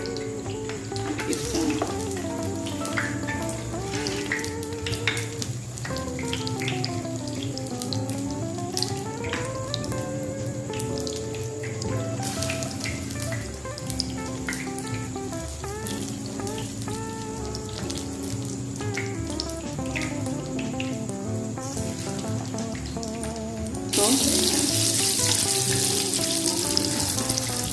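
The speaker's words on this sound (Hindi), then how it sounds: "अब हमने अंडा लगा के एक एक अपनी शामी बर्गर की जो हमने पैटी बनाई थी उसको फ्राई करना है" Egg-coated shami burger patties sizzle steadily in hot oil, a continuous crackling hiss running under tuneful background music, with a brief word spoken near the start.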